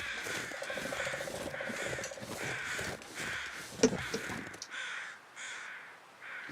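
Several groups of crows caw repeatedly in a hunting video game, harsh rhythmic calls overlapping from different distances, one sharp click-like sound midway, the cawing thinning toward the end.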